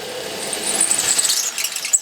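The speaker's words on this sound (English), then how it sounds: "once I drill that far into the wall" A power drill with a taped bit bores into a wall, giving a steady high-pitched whine and grinding for two seconds, fairly close and alone.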